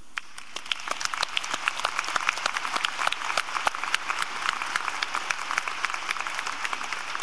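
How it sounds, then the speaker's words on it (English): A graduation audience applauding the school custodians, a steady roomful of overlapping hand claps with distinct sharp individual claps, sustained and fairly loud throughout. "How about a big round of applause for all the custodians out there?"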